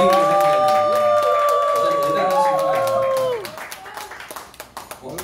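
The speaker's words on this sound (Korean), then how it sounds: "자, 9개월 10개월 만에 다시 한번 박수 쳐주세요." At a benefit-night concert, audience applause and cheering rise under sustained musical tones that end after about three seconds, and scattered clapping continues afterward.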